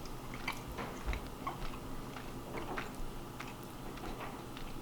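Close chewing and biting of a whole grain blueberry muffin, soft moist crunches recurring at an irregular pace over a quiet background, no talking.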